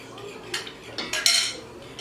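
A utensil stirs a milk mixture for brioche in a dish, giving a few light clinks and scrapes against the dish, close and brief with quiet gaps between them.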